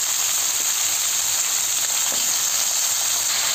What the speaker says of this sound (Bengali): এবার আমি লাল করে ভেজে নেবো।